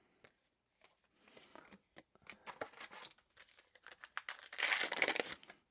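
Flesh and Blood trading card packs are torn open, with soft, close crinkling of foil wrappers in irregular bursts that build to a louder rustle near the end.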